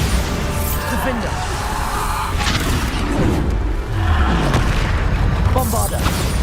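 Bombarda explosion spell going off in the video game Hogwarts Legacy, a booming blast within a dense, continuous wash of game effects and music, with a voice speaking over it.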